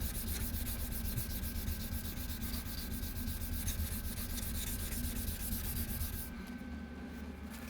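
Damascus knife blade made from guitar strings, hand sanded with 400 grit paper at an angle: steady, close, rhythmic scratchy rubbing strokes that continue for about six seconds and then ease off.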